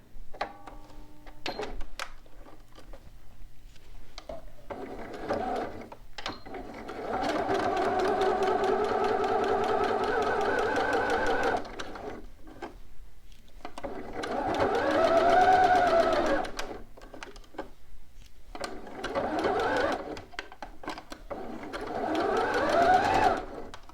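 A home sewing machine stitches a bodice shoulder seam toward the neckline in several runs of close, rhythmic motor whir and needle ticking, with short pauses, clicks and handling noises between bursts.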